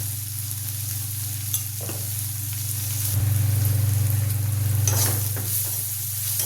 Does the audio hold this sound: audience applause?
no